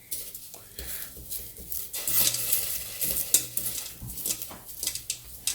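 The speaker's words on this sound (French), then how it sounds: "vous mélangez bien les gousses d'ail, bien mélangées" Garlic cloves stirred around a cheese fondue pot as it heats, giving close scraping and rubbing with a light sizzle and occasional clinks of utensil against pot, steady and fairly quiet.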